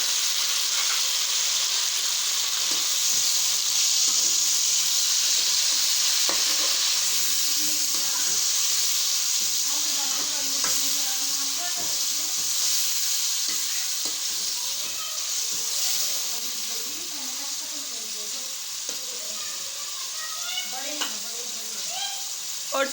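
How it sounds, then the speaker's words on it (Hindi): Tomatoes frying with beef keema for pulao give a steady, bright sizzle that runs throughout, with scattered stirring knocks and scrapes, close and constant. "और टमाटरों की अब जो है वो भुनाई कर लेंगे"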